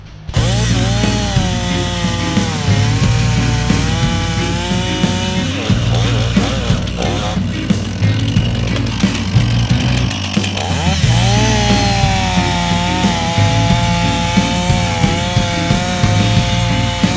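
A chainsaw bores into a standing tree trunk during felling, the engine roaring loud and steady at close range throughout, with brief dips in pitch as the bar presses into the wood.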